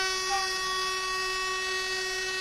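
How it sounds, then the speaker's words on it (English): A Polish-built narrow gauge steam tank engine on a Balkan line to Velingrad sounds a long, steady whistle, loud and sustained through the whole moment with no break. "This really is quite a monstrous tank engine, built in Poland some years ago."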